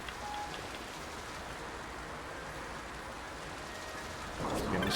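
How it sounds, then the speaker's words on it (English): A heavy rain downpour roars as a dense, steady wash of close rain noise that stays constant throughout and swells slightly louder at the end, with no talking. "it's downpouring here"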